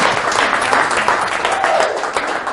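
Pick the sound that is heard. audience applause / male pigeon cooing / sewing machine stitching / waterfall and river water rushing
audience applause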